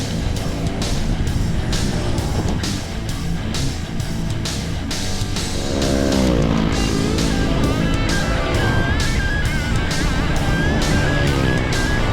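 Steady traffic passes along a road near an Amadeo intersection on the way up to Tagaytay, a loud continuous engine and tyre roar with several vehicles rising and falling close by, no talk.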